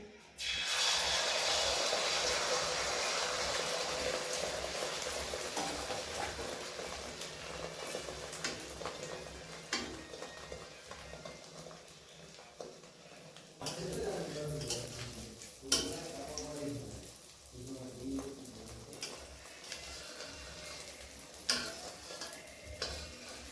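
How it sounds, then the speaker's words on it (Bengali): A beaten-egg omelette fries in hot oil in a wok, giving a strong, close sizzle at first that settles into softer crackling, with occasional scrapes and clinks of a utensil against the pan. "তেল গরম হয়ে গেছে অমলেটটা আমি ভেজে নিচ্ছি"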